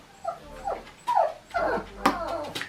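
A pet dog whimpers and whines in a run of short, high, plaintive cries, close and fairly quiet, repeating about every half second with no talking.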